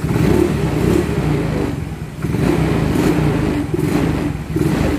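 A motorcycle engine revs as the throttle is opened, loud and close, rising and falling in several surges with brief dips between them.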